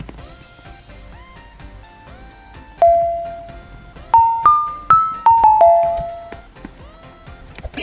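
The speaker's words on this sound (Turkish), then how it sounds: "Zil çaldı." A school bell chimes through a string of bright ringing electronic tones, several sharp strikes with ringing decay, loud and close over faint background sound.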